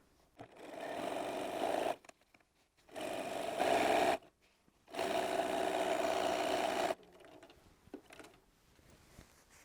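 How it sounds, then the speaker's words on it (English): A sewing machine stitches a quilt strip with a 1/4 inch seam, running in three steady whirring bursts broken by short pauses, close and fairly quiet, followed by faint handling clicks. "with right sides together we're going to sew down the length of the strip"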